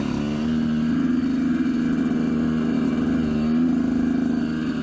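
A Yamaha YZ125 two-stroke motocross bike putters along at low revs in first and second gear, with a steady buzzing drone that stays close and even throughout.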